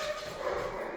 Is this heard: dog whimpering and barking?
yes